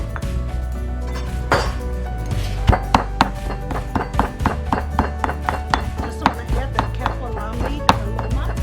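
A knife chops kaffir lime leaf with garlic and shallot on a board in steady, close, fairly loud knocks. The strokes keep an even rhythm with no pauses throughout.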